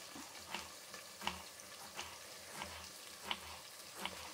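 Onions sizzle steadily in a pan, a soft continuous frying hiss with light stirring knocks at regular intervals, close and fairly quiet with no talking.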